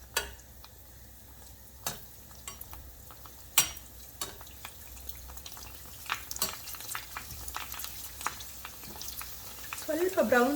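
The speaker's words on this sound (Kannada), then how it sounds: "ಪೂರಿನ ಡೀಪ್ ಫ್ರೈ ಮಾಡಬೇಕು. ಎಣ್ಣೆ ಕಾದಿದೆ, ಪೂರಿ ಮಾಡೋಣ." Puris deep frying in hot oil for homemade pani puri, a steady low sizzle with scattered crackles and pops, a few sharper sputters near the end, close and fairly quiet.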